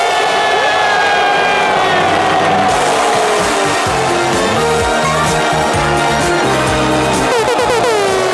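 A live audience cheers and roars with music and sustained crowd noise as an artist is welcomed onto a stage, a dense, loud wash of voices and applause running throughout without a break.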